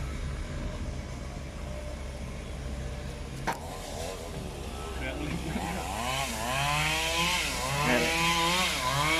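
A CAT 320GX excavator's 145-horsepower diesel engine idles with a steady low rumble, its pitch and load rising toward the end, with a brief clank partway through.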